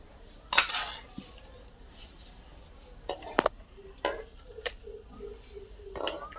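A spoon stirs amla (Indian gooseberry) pickle with oil in a dish, giving intermittent metallic clinks and scrapes against the container, scattered and fairly close, with quiet wet mixing between them.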